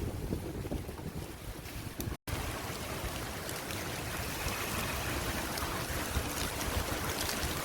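Floodwater of the swollen Bharathapuzha river surges past the Pattambi bridge in Kerala, a steady broadband rush of flowing water mixed with wind buffeting the microphone, continuous and loud with a momentary dropout near the start.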